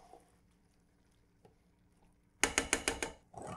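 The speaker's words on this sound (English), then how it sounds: "We forgot to open the cans before, so we're doing that now." A manual can opener cranks around cans of beef broth in a home kitchen while a soup cooks, a quick run of six sharp ratcheting clicks following a mostly quiet stretch, then another brief grinding burst at the end.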